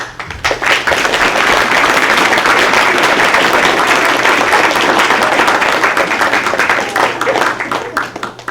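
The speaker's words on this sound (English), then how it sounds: "We would like the audience to join in a round of applause for the newlyweds." A theatre audience at a stage performance of Shakespeare's A Midsummer Night's Dream applauds the newlyweds, with loud, dense clapping from a large, close crowd that rises quickly and sustains for several seconds.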